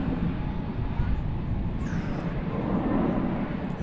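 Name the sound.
American Airlines Airbus A321 at DFW airport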